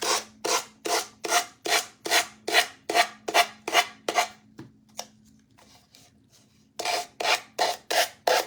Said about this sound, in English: So we're just using our finger sander, just going around getting that excess off.